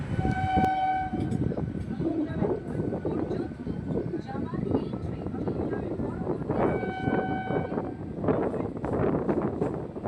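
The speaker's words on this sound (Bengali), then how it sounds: "আর ট্রেন কিন্তু ভালো গতিতে ছুটছে।" A Howrah–Tarakeswar local train runs at speed, wheels rumbling and carriages rattling throughout, with short horn blasts at the start and again later, muffled wind buffeting and voices faintly under the din.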